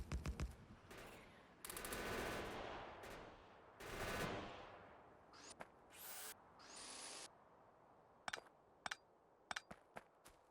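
Turrets firing in Factorio, with sustained bursts of rapid game gunfire followed by sparse single shots and sharp pops. Sound stays mid-distance and fades into scattered isolated hits, with no talk.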